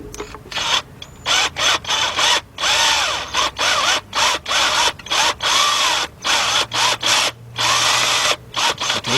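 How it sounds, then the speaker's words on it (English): A power drill fitted with a 3/8 drive extension and a 15mm deep socket removes bracket bolts on a 2003 Jeep Liberty Sport 3.7 engine, running in loud repeated whirring bursts separated by short pauses, close up with no talk. "drill now, and he's using a 4-inch 3/8 drive extension with the 15mm deep 3/8 drive"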